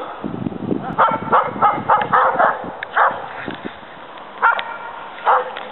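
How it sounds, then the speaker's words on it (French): Several dogs bark repeatedly nearby in uneven bursts during a search dog's missing-person search exercise, with yips and whimpers mixed in and some overlapping barks. "les chiens qui aboient"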